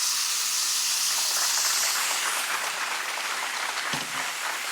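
Steaks sear loudly in a hot pan while being glazed with thickened sauce for a steak-and-eggs brunch dish with an Asian twist, giving a dense, steady sizzling hiss throughout with a faint knock near the end.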